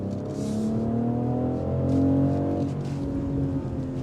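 2025 BMW X3 M50 with its B58 engine revving hard through a turn, rising harmonic engine tones swelling to a peak and easing off, with faint exhaust crackle, close and loud, no talking.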